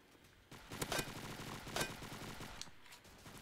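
Gunfire in a Roblox World War II shooter, a sustained automatic rattle with a couple of sharp louder shots standing out, steady and fairly close throughout.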